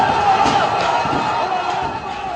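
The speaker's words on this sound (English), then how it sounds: "Listen to the strength of that crowd and the anger that is bubbling within it on both sides of this" Angry crowd during violent street battles in Egypt, a dense, loud roar of many voices with scattered shouts and thuds, continuous throughout and fading a little toward the end.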